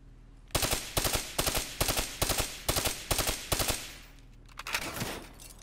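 Gunfire in an online shooter video game: a steady series of about eight sharp, evenly spaced shots rings out close, followed by a looser, rattling burst.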